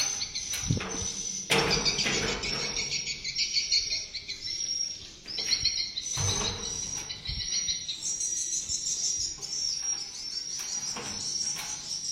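Swiftlets chirp in a dense, continuous chorus inside a swiftlet nesting house, the bright twittering calls layered and steady throughout with a few louder bursts and occasional knocks.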